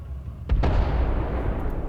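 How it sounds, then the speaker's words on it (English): A single loud explosion at a countdown's end: a sharp blast followed by a second heavy burst, then a long rumbling, roaring decay that fills the rest of the moment. "Okay, that was the explosion."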